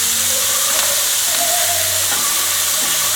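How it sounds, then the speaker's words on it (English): Squid and tomatoes searing in a hot pan with pesto, a loud close hiss and sizzle held steady throughout, with faint clinks and scrapes mixed in and no voices. "Because you want to get that sear on the squid."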